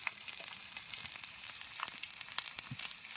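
Bombil, Bombay duck fish, sizzling as it fries in hot oil, a steady bright crackle with scattered sharp pops and spits close by, no voices.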